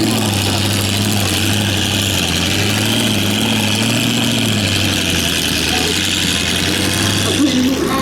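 A Canadian-built Ford Bren carrier sits idling at a military vehicle show, a steady, close engine drone with a low, even throb that holds without change.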